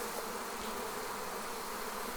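Honey bees buzzing steadily around a hive entrance bored through thick solid wood during a September swarm, a dense continuous hum close by with no voices.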